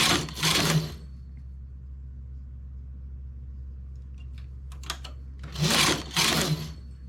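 A knitting machine knitting a hat makes two brief whooshing, clattering carriage passes, one at the start and one near the end, separated by a quieter stretch with small clicks.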